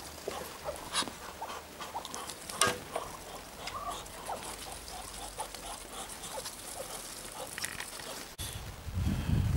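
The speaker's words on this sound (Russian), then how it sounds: "Ну-ка, дождик моросит." Light drizzling rain outdoors, a dense, steady patter of fine drops with scattered sharper ticks, fairly close, and a low rumble swelling near the end.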